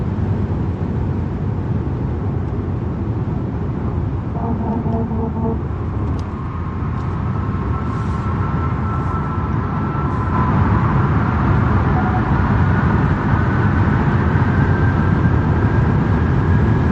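A Genesis GV70 electric car cruises at about 170 km/h, a steady roar of road and wind noise that swells louder toward the end, with a faint rising whine underneath.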